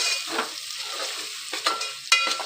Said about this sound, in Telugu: ఇప్పుడు బెండకాయ మంచిగా ఆయిల్లో ఫ్రై అయ్యింది